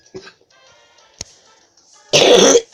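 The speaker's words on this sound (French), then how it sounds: "J'arrête pas de tousser là." A single loud, harsh cough bursts out close to the microphone after a few faint clicks and a quiet breath.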